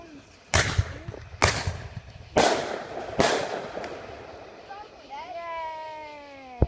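Independence Day fireworks go off as four sharp, loud booms spaced about a second apart, each trailing into a rumbling decay, followed by a faint whistling tone at the end. Speech is present during the bursts.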